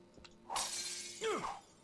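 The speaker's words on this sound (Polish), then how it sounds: "A się to szkło rozsypało" Glass breaking in the video game Dead Island, a sharp crash followed by a bright scattering rush of shards lasting about a second, with a faint swooping tone near the end.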